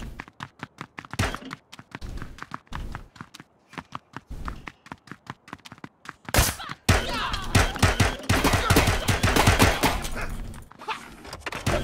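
Rapid, sharp gunshot cracks from the video game Rapture Rejects fire in quick bursts, early shots spaced and punchy, then a denser, louder flurry of overlapping blasts and impacts.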